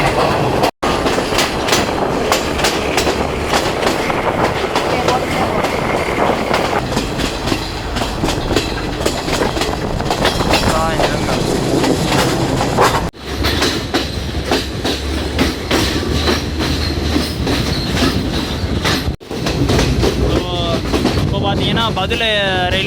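A train on the Badulla to Colombo line in Sri Lanka roars loudly and continuously, with rattling wheels and clattering carriages close by and a few brief dropouts.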